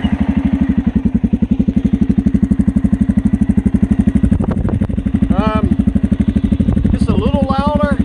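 A 2019 Suzuki King Quad 750 ATV fitted with a spark arrestor idles close by in a steady, rapid putter throughout, with a voice speaking briefly over it near the end.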